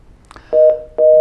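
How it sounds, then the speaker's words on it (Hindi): Two loud, steady telephone tones of equal length sound close together as a caller's line drops on a sports talk phone-in, following a couple of faint clicks and set against near silence. "आपकी कॉल ड्रॉप हुई"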